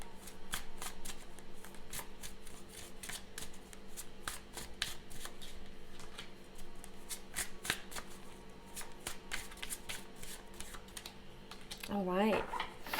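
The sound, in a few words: shuffling a deck of cards for a card reading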